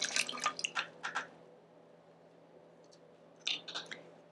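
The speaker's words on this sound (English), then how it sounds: "pour it through the funnel." Hydrogen peroxide is poured through a funnel into a plastic bottle, giving faint splashy trickles and drips in two short bursts with a quiet gap between.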